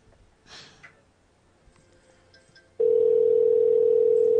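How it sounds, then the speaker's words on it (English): A steady, loud telephone tone on a line during a prank call, sounding as one unbroken note that starts partway through after quiet rustling and breathing and runs to the end. "I think it's still ringing."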